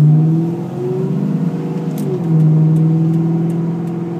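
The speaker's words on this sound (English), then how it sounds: "I'm going over a really rough road right now if you're hearing those rattles" A 2002 Ford Mustang GT drives over a rough road, its engine a steady low drone heard from inside the car, with faint intermittent rattles and knocks across the body.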